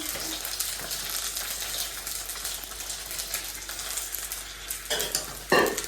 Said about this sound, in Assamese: পুৰা একশরিয়া ভাজি ললো ফুচকা